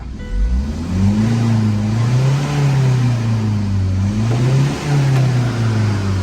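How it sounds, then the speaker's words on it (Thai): A Tata 2.2-litre diesel engine that had been shaking with warning lights on starts and runs close up, loud and steady, with the engine pitch rising and falling through several revs. "อ่ะมาติดเครื่องฟังมาติดเครื่องดูกัน อ่าเครื่องติดง่ายนะครับ"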